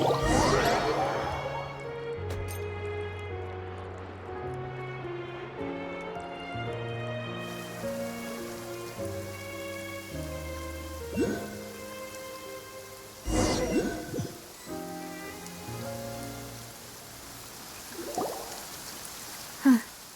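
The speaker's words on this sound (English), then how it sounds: "It's been raining non-stop for a few days now." Steady rain falls in the video game Genshin Impact, a soft, even hiss running beneath a melodic musical score, with a few louder splashy bursts near the end.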